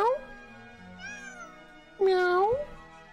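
A person imitates a cat with a run of voiced meows, one drawn-out mew near the start, a softer one in the middle and a louder, rising meow toward the end, close to the microphone.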